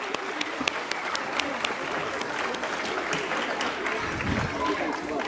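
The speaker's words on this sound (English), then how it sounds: "This calls for a huge round of applause for their confidence and poise." Sustained audience applause fills the hall for a nursery children's performance at a school annual day, steady dense clapping throughout with a crowd murmur underneath.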